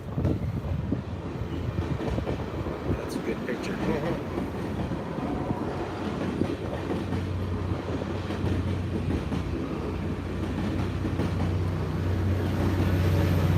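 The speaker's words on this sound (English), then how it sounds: "Watch this train real quick" A train rolls past with a steady rumble and rhythmic rail clatter, growing louder toward the end; a voice briefly speaks over it.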